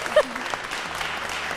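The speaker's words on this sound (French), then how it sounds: "On peut l'applaudir quand même." Applause for a pastry chef on a French baking competition show, a short steady patter of clapping from a small studio group, with voices over it.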